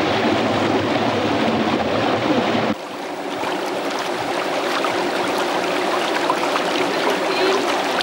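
Steady, close rushing of water from the Mogio mountain stream in Val di Sella, flowing through a concrete canal; the broadband flow drops slightly in level partway through, then continues evenly.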